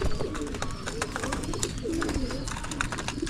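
Pigeons coo in a pigeon loft, their soft, throaty calls repeating close by over a busy background of wing flutters, shuffling and faint chirps.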